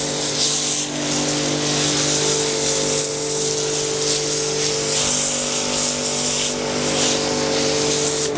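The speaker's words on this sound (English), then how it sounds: "and then blast it all off and see how that works on it, just to get the heavy stuff off." A pressure washer blasts snow foam off a dirty bike drivetrain, giving a loud, constant hissing spray over a steady pump-motor drone with a few bursts of stronger spatter.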